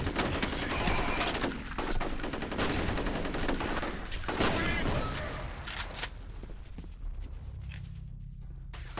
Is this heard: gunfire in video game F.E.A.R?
yes